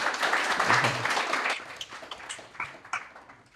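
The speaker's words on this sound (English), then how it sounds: "We do the customary round of applause first." Audience at a Sheffield Content Club meetup gives a short round of applause, fullest at the start and thinning into scattered claps as it fades.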